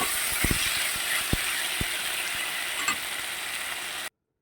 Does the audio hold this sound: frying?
yes